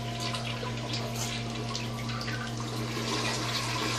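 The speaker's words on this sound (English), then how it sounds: "I'm gonna flush this out now." A toilet flushes while rust, lime and hard-water stains are being cleaned from the bowl, giving a steady, close rush of water that runs evenly for several seconds with no speech.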